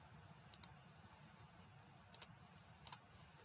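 Three sets of crisp double mouse clicks, spaced a second or more apart, are quiet and close over a low background hum while working in Link-Live network mapping software.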